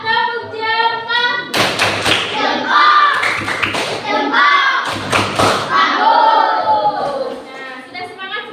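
Children in a classroom perform a thumb clapping game, tepuk jempol, with loud rhythmic claps and thumps in quick bursts, mixed with chanting voices throughout.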